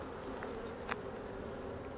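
Honey bees buzzing around a hive, a soft steady drone with a few louder passes of individual bees flying close.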